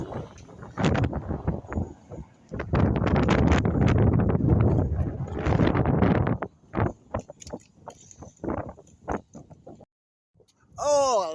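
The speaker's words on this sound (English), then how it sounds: "a little bit breezy on that corner it was, so I decided to stop the camera, stop talking for a little bit" Wind gusts on a breezy street corner in Larkhall, Scotland, buffeting the microphone in loud, rumbling bursts that fade into quieter spells, with a final gust at the end.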